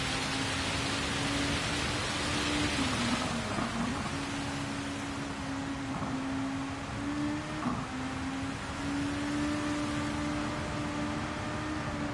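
Rain falls on the track at Fuji Speedway in a racing game, a constant wash of noise under a steady engine drone, with no talk.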